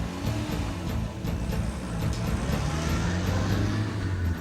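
A car engine accelerates during a chase scene in a Turkish TV drama, a loud, continuous roar with a steady low drone that holds and swells through the whole stretch.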